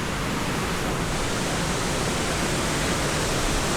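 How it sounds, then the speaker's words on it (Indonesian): Water rushes steadily and loudly in an irrigation river near Gasol village in Cugenang, forming a constant broadband roar that is near and continuous, with no voices. "Ini adalah sungai irigasinya guys."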